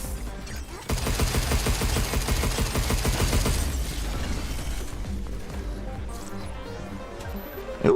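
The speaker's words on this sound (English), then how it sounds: "Ooh, a photon laser." A photon laser weapon firing in the video game Pragmata, a loud rapid rattling burst of shots for a few seconds that gives way to softer mechanical clatter and a final pop.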